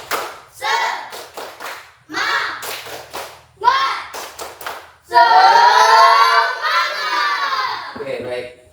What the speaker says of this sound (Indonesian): Ulangi sekali lagi ya. Tepuk semangat.